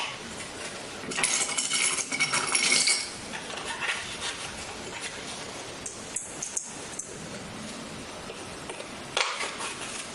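Metal bull clips snap and clink as they clip a stencil onto a 4x6 card for a postcard project, a bright rattle of handling at the start, then scattered light taps and clicks up close.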